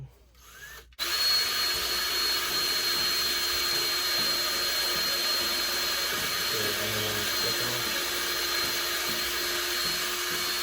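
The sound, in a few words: drilling into wood with drill bit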